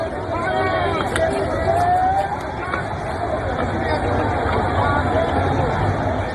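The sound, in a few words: angry crowd rioting in Bangladesh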